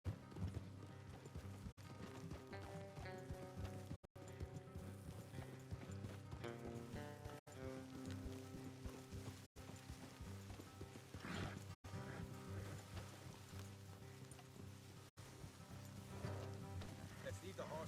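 Horses' hoofbeats clip-clopping in the video game Red Dead Redemption 2, a steady galloping rhythm under a dense bed of game music with brief gaps, occasional whinnies and a soft rain-like hiss.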